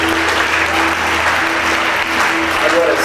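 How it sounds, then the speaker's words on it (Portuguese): Loud, continuous applause from a church congregation, dense clapping filling the room with a faint steady tone underneath. "Aplauda o Senhor."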